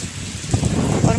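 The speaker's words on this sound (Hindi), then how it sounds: "इसमें बारिश चारों तरफ से आ रही" Heavy rain pouring down all around, a dense close hiss with low rumbling surges.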